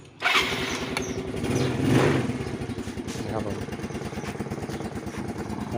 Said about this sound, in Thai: ของ ยามาฮาฟิโนนะครับ เราก็ได้ประกอบไว้เรียบร้อยแล้ว เดี๋ยวเราก็มาสตาร์ทแล้วก็มาลองดูนะครับ